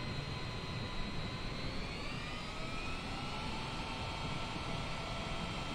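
An airliner landing at Miami airport, a dense continuous jet engine roar with slowly drifting whine tones, loud and steady throughout.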